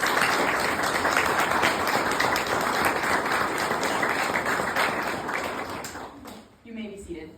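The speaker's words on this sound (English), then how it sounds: "Let us honor these veterans with a round of applause" A crowd claps steadily in sustained applause for veterans at a memorial address, loud and dense throughout before fading near the end.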